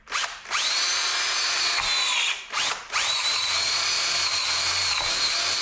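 A power drill bores a 1/4 inch hole in a vintage snow blower part, its motor whining loudly and steadily in two long runs separated by a brief pause, close up with no talking.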